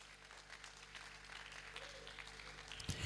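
Continuous applause from the crowd at an inter-university debate event as a guest moves to the head table, an even wash of clapping with faint murmuring beneath it.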